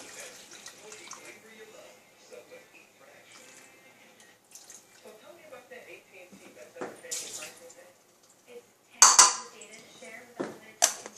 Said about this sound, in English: that's the noise that you hear when you add the water